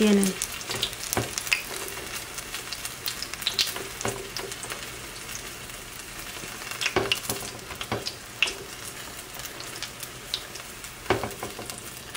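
Cheese-stuffed nopales fry in oil with a steady, fairly quiet sizzle and scattered pops and utensil clicks, while a voice speaks briefly near the start.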